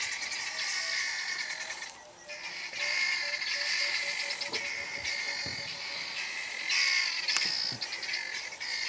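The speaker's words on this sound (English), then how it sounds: "Who's making the noise? The eagles? Guinea fowl." Flock of guinea fowl in the African bush, calling continuously with harsh, rapid, rattling cackles at moderate distance, with occasional louder chirps and no talk.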